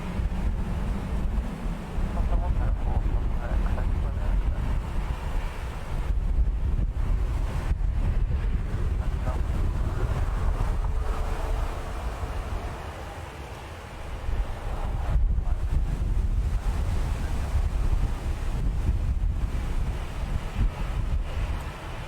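Steady, gusty wind buffets an outdoor microphone at an airport, a continuous low roaring rumble that dips briefly before surging back at full strength, with no voices.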